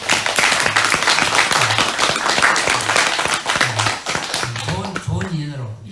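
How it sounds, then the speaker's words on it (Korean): Applause from a gathered audience at a Buddhist dharma talk: a steady, dense burst of clapping close by lasting several seconds, thinning out near the end as a voice starts speaking. "박수 한번."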